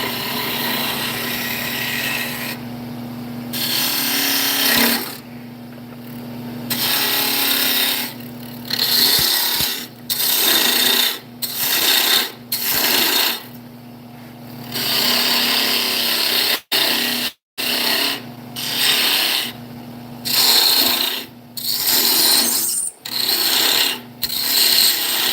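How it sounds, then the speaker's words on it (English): Heavy bowl gouge cutting into hard wood on a lathe, a loud sustained grinding roar with a low motor hum, broken up by repeated short pauses as the tool lifts off and bites again. "So all I did is switch to my bowl gouge."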